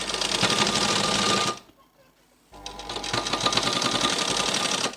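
A sewing machine stitches thread piping on a leaf-shaped design, running in a fast steady chatter, pausing for about a second, then starting up again just as loud.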